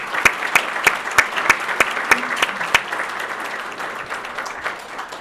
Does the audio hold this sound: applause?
yes